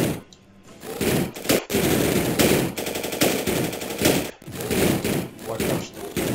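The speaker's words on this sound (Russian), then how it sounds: "Сейчас нам покажут, вот, что мы можем стрелять." Rapid machine-gun bursts and thumping gunfire come from a shooting tutorial in a PSP video game played on an emulator, loud and repeated with short gaps between volleys.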